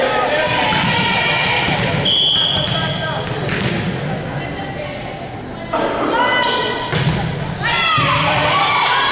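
Women's under-16 volleyball semifinal in a gym: a serve, reception and spike give a few sharp ball thumps amid crowd cheering, children shouting and a commentator speaking throughout.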